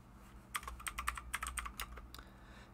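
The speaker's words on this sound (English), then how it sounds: "I can just start typing." Rapid clattering keystrokes on a computer keyboard during a Jamboard session, a quick irregular burst of taps at close range with no talking.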